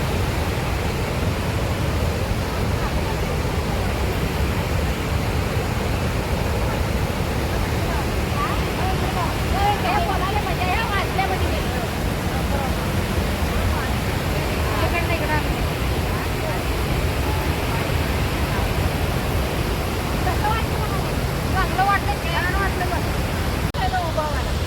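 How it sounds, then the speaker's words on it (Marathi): The Dhuandhar waterfall on the Narmada roars in a loud, unbroken wash of white noise that fills the whole scene, with faint voices now and then under the roar. "धबधब्यावर, धुवाधार धबधबा."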